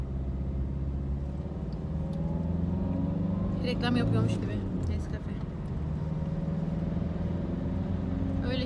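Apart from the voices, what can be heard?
car driving on road trip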